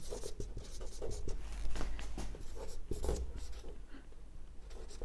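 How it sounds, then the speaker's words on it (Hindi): Chalk or marker scratches and taps across a classroom board in short, uneven strokes, faint and close, with no talk over it. "तो यहाँ पे लिखते हैं क्रिस्टल डिफेक्ट"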